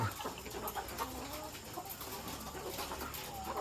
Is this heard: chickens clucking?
yes